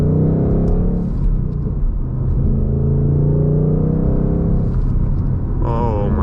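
A 2021 Ford Mustang Mach 1 with a six-speed manual gearbox rumbles loudly from inside the cabin, its V8 roar swelling with a rev-matched downshift, and a brief voice cuts in at the close.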